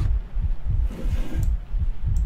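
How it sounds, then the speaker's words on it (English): A heavy, throbbing heartbeat pulses steadily and loudly in the horror video game Layers of Fear, about five low thumps in quick succession with no talking over them. "That heartbeat's getting heavy."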